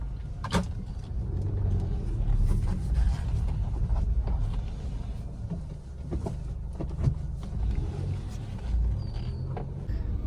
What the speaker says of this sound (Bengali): গাড়িটা পার্ক করে রাখি।